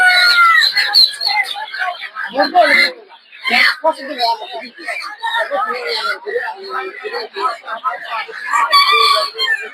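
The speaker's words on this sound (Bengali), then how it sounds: "দেখতে পাচ্ছেন এদিকে হচ্ছে বিভিন্ন দেশি মুরগি" Desi chickens cluck and squawk loudly and nearly constantly at close range at a poultry market, with a rooster crowing among them and a person talking nearby.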